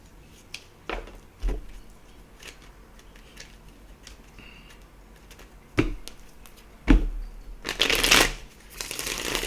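Radiant Rider Waite tarot cards being shuffled, a few soft riffling bursts spaced apart with a longer, louder flurry near the end, close and alone with no talk.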